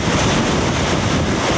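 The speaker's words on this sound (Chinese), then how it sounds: "强风吹着树木，迎风倒，撑不住的直接折断" A squall-line storm with strong wind and heavy rain bends and snaps trees in Fangshan, Pingtung, southern Taiwan. The gusts make a loud, steady, broadband roar with no voices.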